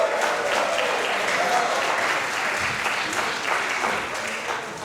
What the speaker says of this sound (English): All right, give them a round of applause, everybody.